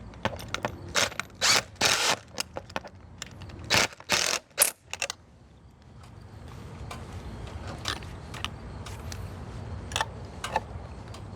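Ratchet wrench clicking in quick bursts while bolts are tightened evenly on a box van build, loud close clatters in the first half followed by a steady hum with sparse clicks.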